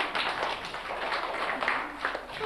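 Classroom applause for a pupil named Rafiq: a moderate patter of many small hands clapping steadily in an indoor room, continuing throughout.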